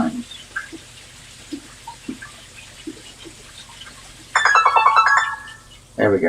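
A phone ringtone called Stargaze plays loud and close, a bright, twinkling run of rising chimes that starts after faint scattered taps and returns briefly near the end.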